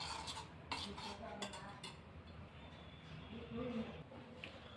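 Ragi flour being stirred with half a cup of water, soft scraping and swishing strokes in a bowl, close but faint, stronger at the start and then quieter.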